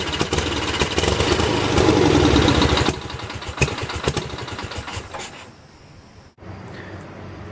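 A 1978 Lincoln Lincwelder 225 welder generator's engine turns over and catches, running loud and rough at first, then settling into a quieter, uneven idle before a brief dropout and recovery.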